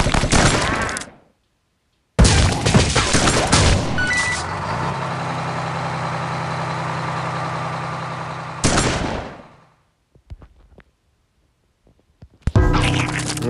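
Gunfire from the zombie-fighting video game Dead Ahead: Zombie Warfare comes in dense, loud bursts of rapid shots with abrupt gaps of silence and a sustained mechanical rumble under one long stretch.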